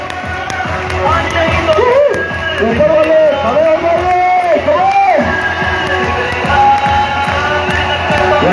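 Seminar audience in a hall cheering, whooping and clapping together, a loud busy crowd roar that holds steady throughout with voices calling out over it.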